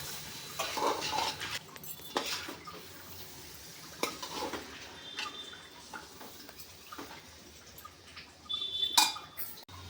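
Chicken pulao basmati rice being mixed with gravy in a pot, soft intermittent scraping and clinks of a spoon against the pot, fairly quiet and close, no speech.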